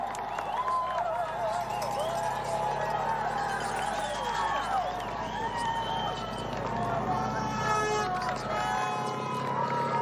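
A large crowd of spectators lines a Tour de France stage in Yorkshire, a steady roar of cheering and clapping beneath continuous commentary.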